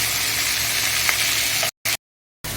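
Green chillies and tomatoes frying and being stirred in a pan for a taro greens dish with hilsa fish head, giving a loud, steady close-up sizzle that cuts out briefly twice near the end.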